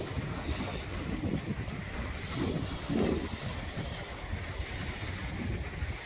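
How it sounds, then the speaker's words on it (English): Waves roll in on a beach under a northeasterly wind, a steady wash of surf with gentle swells building and fading, heavily mixed with wind buffeting the microphone. "Waves rolling in."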